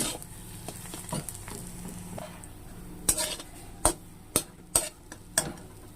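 A spoon scraping and knocking against a pan as kharkol leaf paste with prawn heads is stirred over a low flame, soft scrapes early, then several sharp, distinct clacks close by in the second half.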